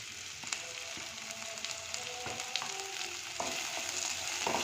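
Chopped capsicum, red and yellow bell peppers and green chillies fry in a pan. A close, steady sizzle carries repeated scraping and clinking strokes of a spatula as they are stirred.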